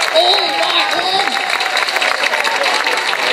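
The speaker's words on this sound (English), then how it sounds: "A big round of applause for Mark" A crowd applauds and cheers for an Auslan interpreter at an outdoor community carols event in Whittlesea, a steady wash of clapping throughout, with a voice talking over it at the start.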